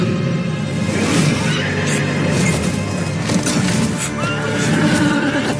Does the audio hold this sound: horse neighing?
yes